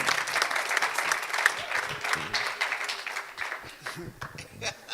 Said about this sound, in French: Les acclamations s'imposent.